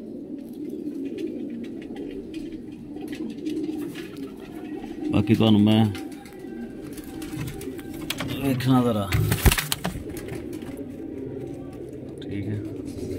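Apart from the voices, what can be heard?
pigeons cooing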